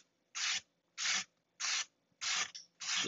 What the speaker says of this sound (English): I'm just taking 120 grit sandpaper rolled up and just in one direction